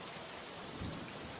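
Steady rain falling, a soft continuous hiss with a faint low rumble partway through, quiet and even throughout.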